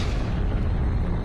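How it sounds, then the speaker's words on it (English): A supernova sound effect: a deep, rumbling explosive roar that stays heavy and sustained through its short length, with no voice over it. "A massive but short-lived star exploded as a supernova."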